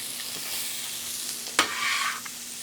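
Half an onion sizzles in a Victoria cast iron skillet with grapeseed oil and leftover butter, a soft continuous hiss broken by one sharp bright crackle and a brief louder burst near the middle, with no voices.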